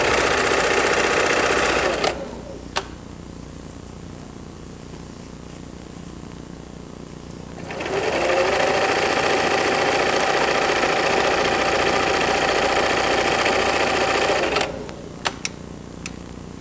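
A home sewing machine stitches down a pressed seam edge in loud, close bursts of rapid mechanical whirring, pausing for several seconds in the middle before running again, with a few sharp clicks as it stops.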